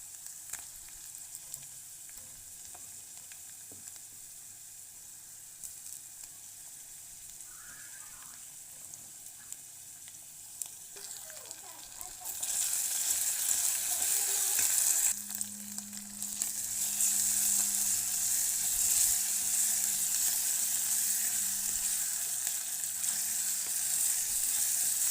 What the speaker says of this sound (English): one hand to film and the other hand I'm using to stir the food